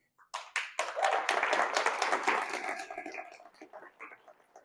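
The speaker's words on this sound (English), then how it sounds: "could we please get a huge round of applause" Audience applause at a political forum held by a young Democrats group, a dense burst of clapping that swells quickly, holds for a couple of seconds, then tapers off toward scattered claps.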